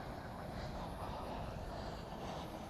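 An American Airlines Airbus A321 arrives at DFW Airport at night, heard as a steady, broad jet engine roar that holds at a constant level throughout, with no talk over it.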